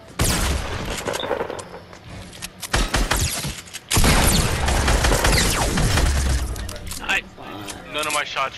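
Dense bursts of video game gunfire in a one-on-one match, loud and near, with rapid volleys and a heavy blast midway, mixed with background voices.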